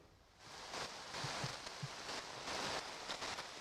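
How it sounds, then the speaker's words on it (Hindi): Heavy monsoon rain falls steadily in Mumbai, a faint continuous hiss of drops with a few soft low thuds, distant and uninterrupted throughout. "मतलब बहुत तेज़ बरसात हो रही है।"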